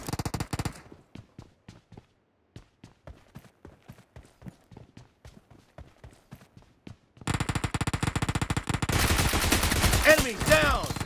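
Gunfire in the battle-royale shooter PUBG: a rapid string of sharp single shots rings out in quick bursts, then gives way to a dense, loud barrage of sustained firing near the end.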